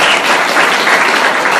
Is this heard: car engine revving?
no